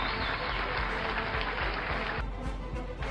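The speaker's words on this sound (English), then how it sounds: "Michael Johnson gets a standing ovation from the crowd here at Frazier Field" A baseball crowd gives a standing ovation at Frazier Field, a dense wash of applause and clapping heard from a distance that holds steady, then thins slightly toward the end.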